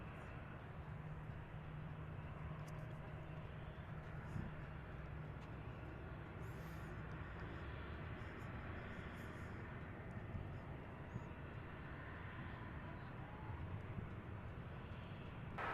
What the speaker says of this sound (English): We get a departure here from Aeromexico Connect.